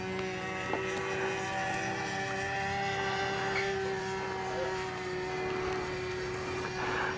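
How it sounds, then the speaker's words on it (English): A small gas-powered model airplane buzzes overhead with a steady, high-pitched engine whine that holds at an even level throughout, moderately distant and alone. "these little gas-powered planes, I get about 15 minutes worth of fuel in them"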